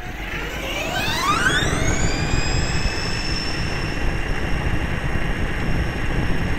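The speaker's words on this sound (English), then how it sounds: "Definitely hitting top speed right there. Motor's winding out." Stock Tamiya Midnight Pumpkin RC monster truck run at full throttle on a speed pass: a rising electric motor whine that climbs in pitch and then holds a high, steady scream over wheel and ground noise.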